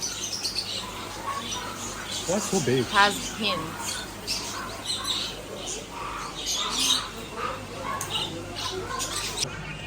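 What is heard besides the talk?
noisy birds at a Chinese market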